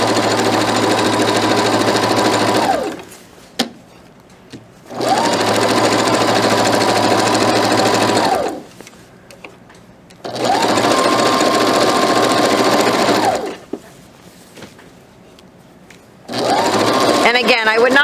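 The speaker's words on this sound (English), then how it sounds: "we're going to sew all the way around the top" A sewing machine stitches around the waistband of pajama pants in four long bursts of steady, rapid whirring, each run lasting a few seconds with quiet pauses and faint handling noises between them, recorded up close.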